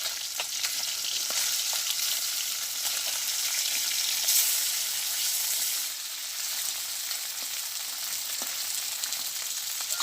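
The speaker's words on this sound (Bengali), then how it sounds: "মাছটা আমি নামাই নিই, মাছ হয়ে গেছে আমার ভাজি" Fish frying in a pan over a village cooking fire gives a loud, dense, continuous sizzle close up, briefly easing and surging again as the pieces are turned, with faint crackles throughout and no talk.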